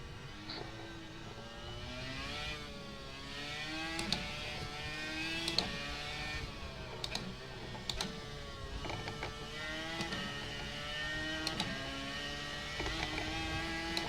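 A Dallara iR-01 race car engine at Virginia International Raceway in a racing video game whines and revs continuously, pitch climbing and dropping through gear changes, with occasional sharp clicks over the steady roar.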